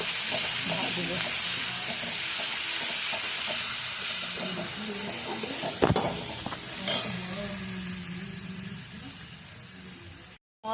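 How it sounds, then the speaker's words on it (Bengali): A spice paste of ground chili, garlic and garam masala with a little turmeric fries in a pan, giving a loud, steady sizzle with scraping stir strokes and a couple of sharper clatters, then it cuts off near the end. "এই মশলাটা আমি ভাজছি, ভেজে নেব।"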